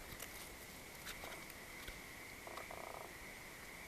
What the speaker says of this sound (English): Oh, now we got some frogs.